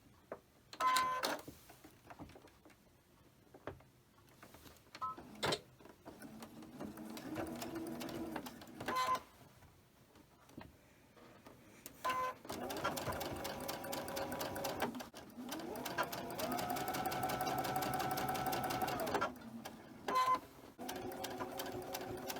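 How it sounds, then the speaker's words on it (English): Sewing machine stitching a strip of quilt fabric, running in several bursts of steady mechanical whirring with pauses and small clicks between them, close and fairly quiet. "I'm going to sew this, and it's going to take care of our top row."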